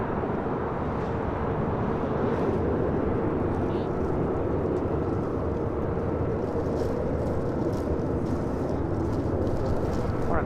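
A Boeing 777 airliner taxiing at LAX, a steady broad engine roar that holds an even level throughout, with faint voices in the background.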